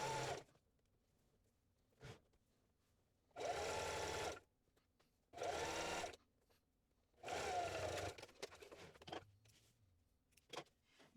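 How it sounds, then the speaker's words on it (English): Domestic sewing machine basting a seam with an eighth-inch allowance across the top of a tote bag: three short whirring bursts of stitching separated by pauses, plus a few brief clicks and handling noises, close and clear. "now I'm going to baste my seam close across the top using a 1/8 inch seam allowance"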